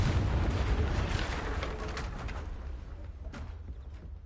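A Confringo blasting spell explodes in the Hogwarts Legacy video game, opening with a loud, dense burst and then a rumbling tail that fades slowly over a few seconds.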